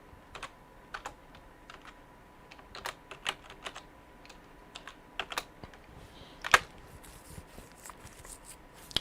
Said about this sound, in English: I'll type my Cash App in here.